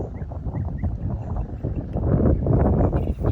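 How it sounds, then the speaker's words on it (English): Gusty outdoor wind in a garden buffeting the microphone, a steady rumbling low roar that swells louder toward the end, close and with no voices. "the wind has decided to blow"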